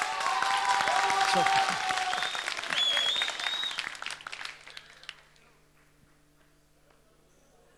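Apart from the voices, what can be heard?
audience applause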